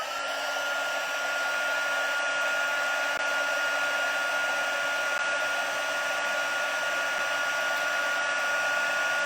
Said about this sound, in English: I guess it'll help if I plug my heat tool in.